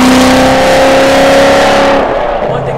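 A supercharged 1000 HP Hennessey Corvette Z06 engine revs loud and close with a lumpy muscle-car idle, holding a high steady rev before dropping off sharply near the end.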